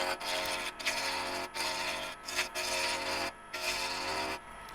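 A 3/4 inch spindle detail gouge cuts olive wood on a lathe for pen turning, producing a continuous close scraping hiss broken by several brief pauses, with no talking.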